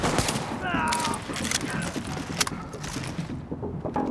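Gunfire in The Division video game, sustained rapid automatic shots, loud and near, mixed with shouted voices and clattering mechanical sounds.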